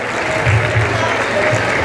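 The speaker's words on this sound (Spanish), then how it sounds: "regale el aplauso a San Diego La Mesa, venga el aplauso" Applause from an audience at a rodeo event at Rancho La Palma in La Mesa, Puebla, a dense steady patter of many hands over a low rumble, with an announcer's voice faintly mixed in.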